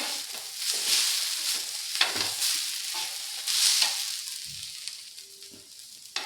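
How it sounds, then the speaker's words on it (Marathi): Garlic crackles and sizzles as it dry-roasts in a pan for masvadi curry spices, in uneven bursts that rise and fade as it is stirred, close and moderately loud. "आता आपण लसूण टाकून घेतलं ते पण थोडं थोडं भाजून घ्यायचं आहे"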